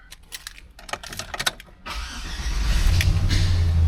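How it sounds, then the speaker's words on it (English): A 2005 GMC Sierra 1500 pickup's engine cranks and catches after some faint clicks and key rattling inside the cab, then settles into a steady, loud low idle rumble. "Fires right up, no issues there."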